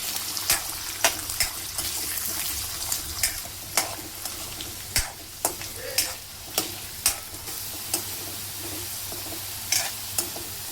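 Potatoes fry in hot oil with a steady sizzle, broken by regular stirring scrapes and clanks roughly every second, close and fairly loud with no talking.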